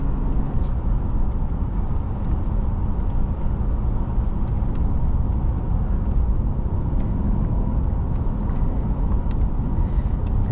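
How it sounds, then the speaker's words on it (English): A 2006 Subaru B9 Tribeca in sport mode cruises on the freeway, giving a steady, broadband rumble of road and engine noise that holds even and loud throughout with no clear shifts or talk. "let's go take this Tribeca on the freeway"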